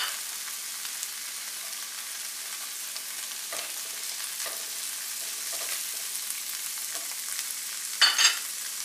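Mushrooms sautéing in a pan alongside cooked fish give a soft, steady sizzle close by, with a few stirring scrapes and a brief louder burst near the end.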